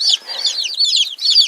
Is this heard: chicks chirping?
yes